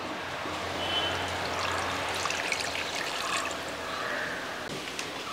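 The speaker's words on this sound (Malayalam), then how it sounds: "കുറച്ച് വെള്ളം ഒഴിച്ച് വയ്ക്കാം" Water poured onto tamarind soaking in a bowl, in a home kitchen making onion sambar: a steady, close trickling pour lasting several seconds with no talk.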